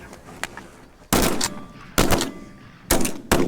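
Several loud shotgun blasts ring out close by while field hunting ducks, coming in pairs and singles with short gaps between them, each one sharp and booming.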